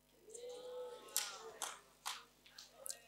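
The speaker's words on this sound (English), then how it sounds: "If you want to clap, clap properly, clap properly" A handful of scattered, uneven claps ring out from a church sermon audience, a few sharp isolated slaps spaced apart against a quiet room with faint background murmur.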